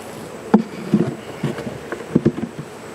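Carniolan honey bees buzzing around an open hive, with soft intermittent hums and brief louder passes close by over a low outdoor background.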